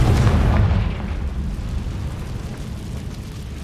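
A Confringo spell explosion in the video game Hogwarts Legacy: a loud, deep boom that decays into a sustained rumbling roar.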